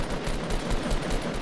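Rapid automatic gunfire in the Fortnite video game, a dense burst of shots close and loud, with no talk over it.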